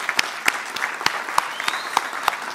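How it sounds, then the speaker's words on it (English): Brief applause for the LEGO Marvel Super Heroes team from an expo audience at EG Expo 2013, made of a handful of sharp, scattered claps over a low crowd murmur. "Can I just ask, first of all, for the audience to give you a round of applause"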